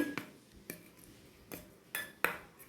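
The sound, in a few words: mixing poppy seed paste with mustard oil in a bowl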